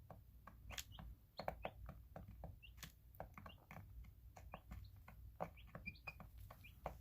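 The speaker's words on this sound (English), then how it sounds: "helps the baby chicks stay the same" Baby chicks on day 9 peeping, many high thin chirps in quick irregular succession, close but faint, with no talking.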